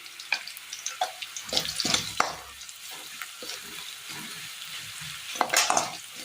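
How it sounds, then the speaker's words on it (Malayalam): Onions fry in a pan with coriander and turmeric powder for a Kerala curry, giving a steady close sizzle broken by irregular scraping stirs and spoon knocks. Nobody speaks. "പൊടികളൊന്ന് മൂത്ത് വന്നിട്ടുണ്ട്."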